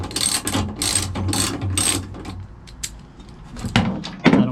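A ratchet clicks in quick bursts during installation of an EZ-Down tailgate assist on a Nissan Frontier, with several close, sharp runs of ratcheting followed by a pause and a couple of isolated clicks and knocks.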